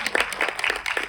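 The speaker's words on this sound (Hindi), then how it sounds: "एक बार सारे कास्ट के लिए बहुत सारी तालियां होनी चाहिए" Loud, close applause from the crowd at the Jatt and Juliet 3 trailer launch, honouring the film's cast, with quick, bunched claps in a brief, lively burst.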